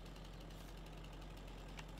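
A tractor engine idling in the video game Farming Simulator 22, a faint steady low rumble with a constant hum and no talking.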